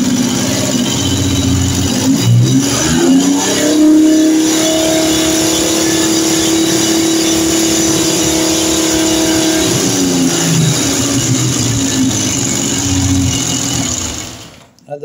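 A Triumph Trident T160 three-cylinder motorcycle engine cranks briefly, catches and settles into a steady, loud idle with a faint rise in revs, running close by for about ten seconds before shutting off.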